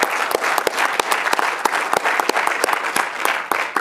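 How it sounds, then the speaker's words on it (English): An audience at an architecture charrette presentation claps steadily for about four seconds, dense overlapping hand claps with a few sharper, nearer claps standing out, no talking. "clap it out."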